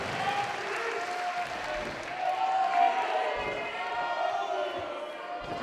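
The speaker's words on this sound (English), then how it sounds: "listen to this crowd react for Matty Wahlberg" A wrestling crowd at a PWA show reacts to Matty Wahlberg with a steady wash of applause and cheering, loud and continuous throughout, with scattered shouts rising above the roar.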